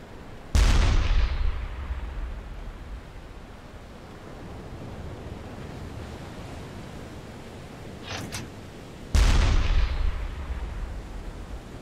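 Two heavy, booming deck-gun shots strike a ship's hull in the submarine game U-Boat, each a sharp loud blast with a rumbling decay, spaced several seconds apart over a steady wash of sea noise, with a faint brief clank between them.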